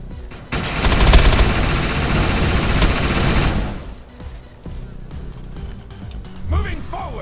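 Gunfire in the video game Defiance: a dense, rapid burst of automatic shots for about three seconds, then lighter, sparser shots and mechanical clatter underneath.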